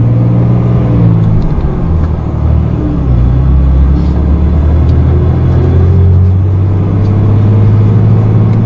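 A truck with a G56 manual transmission climbs an uphill stretch, its engine and drivetrain a loud, steady low rumble and whir that holds close and constant throughout with no talk.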